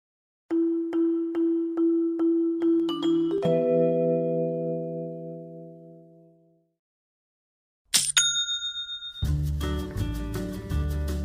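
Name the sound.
Shopify sale notification cha-ching chime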